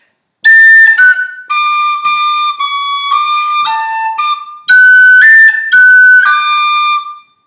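A tin whistle plays the C part of the Irish tune Kitty's Rambles, a bright, clear run of separate and slurred notes with short gaps between phrases, heard alone and close.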